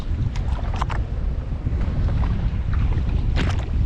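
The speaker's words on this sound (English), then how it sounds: "Pretty strong northerly wind." Strong northerly wind gusting across open water around a Sea-Doo FISH PRO Trophy watercraft, a steady loud roar of wind buffeting the microphone with water rushing beneath, no voices.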